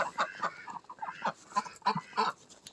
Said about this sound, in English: are roosters a chicken? Yes, roosters are male chickens.